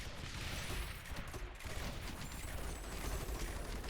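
Cannons firing in a tower-defense video game: a dense, faint, continuous rattle of overlapping shots under a steady noisy background.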